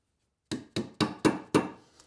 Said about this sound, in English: Dead blow hammer comes in really handy to get these in.